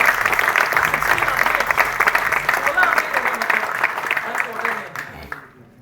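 An audience at a product launch event in India breaks into sustained applause, a dense crackle of clapping that holds steady and then tapers off toward the end.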